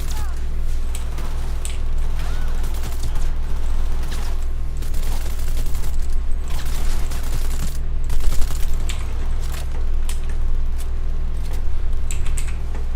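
Video game gunfire crackles as rapid, continuous shooting in the background, steady and dense over a low droning hum.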